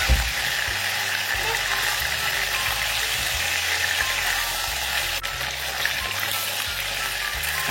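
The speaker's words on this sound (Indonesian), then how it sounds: "Kita goreng ya ayam yang tadi sudah kita marinasi sekitar 15 menit." Marinated chicken frying in hot oil until half cooked: a steady, dense sizzle and crackle fills the whole stretch, close and constant, with a faint low hum beneath and no speech.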